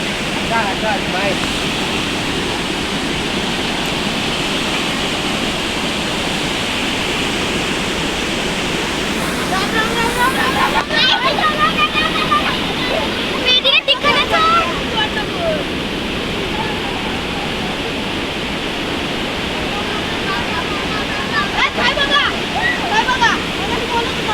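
Napne waterfall roars in a steady, loud broadband rush that fills the scene, with voices talking faintly over it at times.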